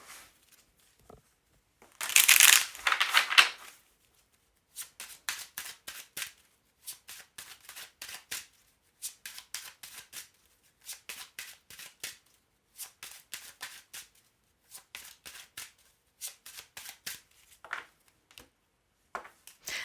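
Oracle des Miroirs cards are shuffled by hand, starting with a loud riffle burst and then a long run of brisk, close card slaps and flicks in regular short bursts separated by brief pauses.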